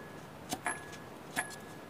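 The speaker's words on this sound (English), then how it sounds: "As I spin up this turbine, it seems to be coming in contact" Saab 900 Turbo turbine spun by hand, scraping against its housing: a few short metallic scrapes and clinks in quick succession, close and fairly faint over a quiet room.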